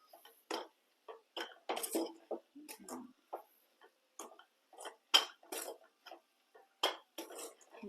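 Chili powder and masala being stirred into a prawn pickle, a spoon scraping and clinking against a metal bowl in irregular close taps and scrapes, with no talk.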